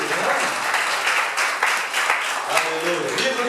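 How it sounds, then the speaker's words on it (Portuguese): Church congregation applauding during a worship service, dense continuous clapping from a crowd with voices and cheering mixed in. "um aplauso para Jesus?"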